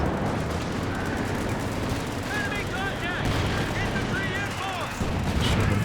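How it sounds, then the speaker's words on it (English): Tank cannon fire with armour-piercing rounds in Company of Heroes 2, a dense run of booming shots and gunfire over a busy battlefield din, with faint bird-like chirps scattered through. "Shooting on AP rounds at the moment."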